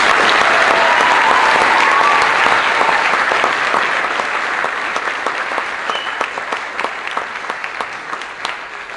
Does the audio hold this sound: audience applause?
yes